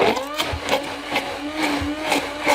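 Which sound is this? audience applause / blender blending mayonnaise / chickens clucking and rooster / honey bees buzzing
blender blending mayonnaise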